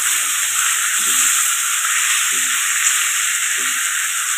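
Tandoori chicken pieces fry in a pan over a medium flame, giving a steady, close sizzle and hiss throughout, with faint soft thuds from the pan at regular intervals underneath.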